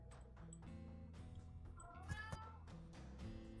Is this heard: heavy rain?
no